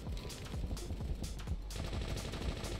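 A Tommy gun firing in a first-person shooter game, rapid automatic bursts of sharp cracks in close succession, loud and near, continuing across the whole moment without talk.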